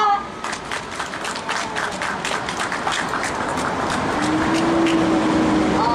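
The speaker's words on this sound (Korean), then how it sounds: "여러분들의 힘찬 박수와 함성으로 우리 조혜영 시인님 앞으로 모시고 시작하겠습니다." An audience at an outdoor labor-protest cultural evening claps and cheers to welcome a poet, brisk applause that gives way to a rising, sustained crowd roar.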